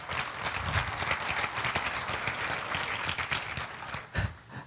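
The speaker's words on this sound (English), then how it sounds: "Could we give him another round of applause?" An audience at a Ford Next Generation Learning announcement gives another round of applause, dense, loud clapping with bursts and swells continuing throughout, with no talk over it.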